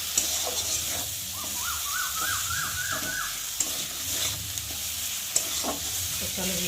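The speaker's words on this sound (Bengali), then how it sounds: "যতক্ষণ না আদা রসুন পেঁয়াজের একটু কাঁচা গন্ধটা যাবে ততক্ষণ একটু ভাজবো।" Spice paste with ginger, garlic and onion fries for a rohu fish kalia, a continuous sizzle with frequent stirring scrapes and a short series of high tonal calls in the background.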